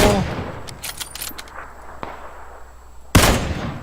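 Gunfire in a video game shootout: a loud close burst of shots opens, followed by scattered quieter cracks and a single sharp report, then another loud blast near the end, with sparse voices.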